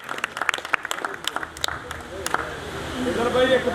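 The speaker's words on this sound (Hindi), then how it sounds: "भरपूर तालियां च इस्तकबाल करो खिजर मोहसन" An audience at a Punjabi mushaira poetry gathering in Pakpattan claps to welcome poet Khizar Mohsin: a run of scattered, fairly close handclaps fades after a couple of seconds as a voice takes over.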